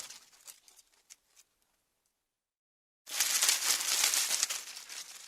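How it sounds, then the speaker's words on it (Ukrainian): Dry leaves crinkle and rustle in soft, scattered bursts, a pause of silence, then a loud, dense rustling swell of falling leaves close by. "це листочки падають на землю."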